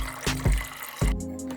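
Water runs steadily into a MioMat nut milk maker chamber, a close, continuous trickle and splash with a few thumps from handling the machine partway through.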